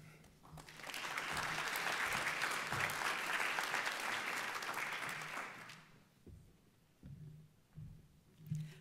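A conference audience applauds to welcome a speaker at an immigration event, a dense steady wave of clapping that swells, holds for several seconds, then fades as a voice begins speaking alone.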